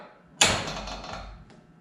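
A half door on a Can-Am Defender side-by-side gives one sharp metallic clack followed by a short ringing decay, then a faint second tap near the end, close by with no talking.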